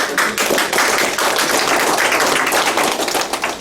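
Applause from an audience closing a neighborhood briefing on park and downtown road projects in Cheongjeon-dong, Jecheon, a dense steady patter of many hands clapping at close range throughout, with no pause.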